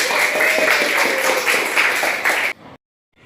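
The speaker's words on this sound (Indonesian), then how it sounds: "Tepuk tangan dong, betul, Pak." Classroom applause during a student nursing practice session, a dense burst of clapping that cuts off abruptly near the end, leaving silence.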